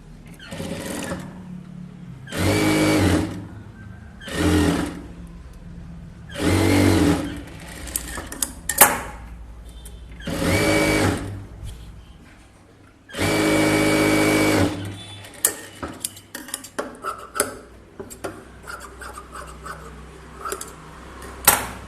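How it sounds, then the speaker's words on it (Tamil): A sewing machine stitches a blouse strip in repeated loud bursts of running, separated by short pauses with small handling clicks and taps, and no talk. "இன்னொரு பட்டியை தைக்கிறேன்."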